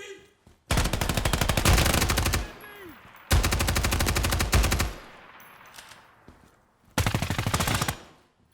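Automatic rifle fire in the tactical shooter Ground Branch: three long, loud sustained bursts of rapid shots, each lasting over a second, separated by brief pauses filled with fading echoes and faint distant sounds.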